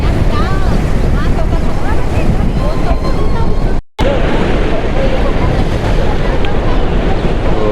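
Water thunders from 24 opened gates of the Nagarjuna Sagar dam, a loud, steady roar with wind buffeting the microphone, broken by a brief dropout midway.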